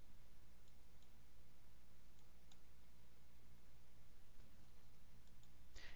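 Faint, sharp computer mouse clicks tick now and then under a steady low hum, with a final click louder near the end.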